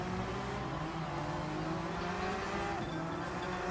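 Race cars in a Gran Turismo 7 Nations Cup online race, one car spinning out: steady loud engine drone with shifting tones and some tire noise, continuous throughout with no talking.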